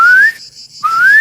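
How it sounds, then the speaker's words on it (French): A person whistles to call the dogs in a garden: a clear, rising whistled note, a brief pause, then a second rising whistle, close and loud with no talking. "si on siffle comme ça"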